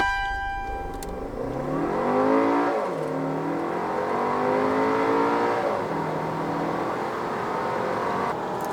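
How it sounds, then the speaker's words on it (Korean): Volkswagen Tiguan Allspace gasoline SUV in sport mode pulling hard from a standstill to 100 km/h, engine note climbing through several rising gear sweeps with brief dips at each shift, loud and close throughout with no talk. "차량이 없는 상황에서 제로백 테스트를 하도록 하겠습니다"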